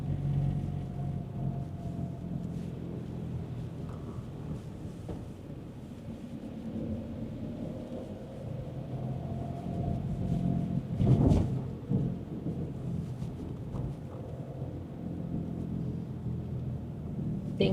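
Rain falls on a street among the big hotels of a mountain resort in Romania's Prahova Valley, a steady soft hiss with low traffic rumble from passing cars and a brief louder swell near the middle, no talk.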